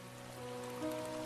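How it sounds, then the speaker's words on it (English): Soft rain patters steadily on an umbrella in a forest, a faint, even hiss of drops with a low tonal hum underneath, no voices. "All the two could hear was the pitter-patter of the rain on the soft umbrella over her head."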